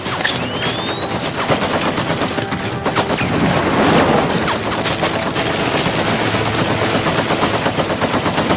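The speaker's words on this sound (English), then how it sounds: "I'm gonna use the flash grenade." Loud, continuous video-game gunfire with rapid automatic bursts and a flash grenade's bang and ringing whine near the start, dense and close throughout, no voices.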